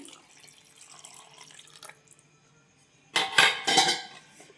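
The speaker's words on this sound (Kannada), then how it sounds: "ಮೊಸರು ಗಟ್ಟಿ ಇದೆ ಅದಕ್ಕೋಸ್ಕರ ಒಂದು ಮುಕ್ಕಾಲು ಬೌಲಷ್ಟು ನೀರು ಕೂಡ ಸೇರಿಸ್ಕೊಳ್ತಾ ಇದ್ದೀನಿ" Water poured into a bowl of thick curd, a brief splashing gush with clinks of the bowl and utensil standing out loudly after a quieter stretch of faint kitchen noise.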